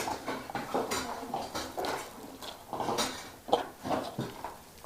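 Metal spoon scooping and clinking against a cup in a preschool nutrition activity, a run of close, irregular scrapes and light taps with one sharper knock, no talking.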